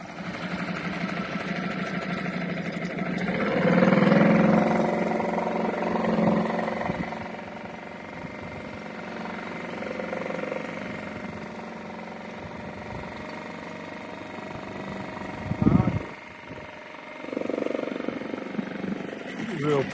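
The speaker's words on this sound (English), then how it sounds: "Real pleased with this little 4 horsepower Yamaha 4-stroke." A small Yamaha 4 horsepower four-stroke outboard motor runs steadily at a low idle, a continuous buzzing drone that carries on throughout with a brief sharper knock midway.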